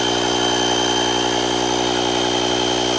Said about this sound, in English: Turn on the pump